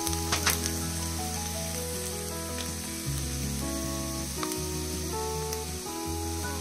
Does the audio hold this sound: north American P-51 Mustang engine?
no